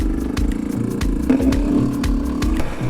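A two-stroke motorcycle revs and accelerates on a riding expedition in Namibia, its buzzy engine rising and falling in sharp pulses with rattling clatter, loud and close.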